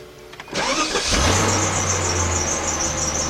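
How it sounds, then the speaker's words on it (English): A BMW 745i's engine cranks briefly and catches, then settles into a steady idle with a constant higher whine from the AC fan, heard close and loud with no talk. "Start the car up."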